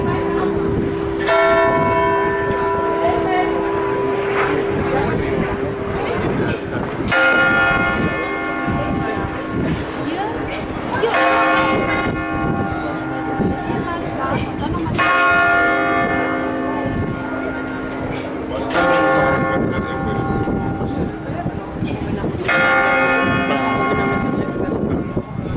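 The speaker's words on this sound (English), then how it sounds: "Bell toll for thee, Ross." Church bells ring out at noon in a European town, a dense, loud peal of overlapping strokes with long ringing tones that repeat every few seconds, with faint talk underneath.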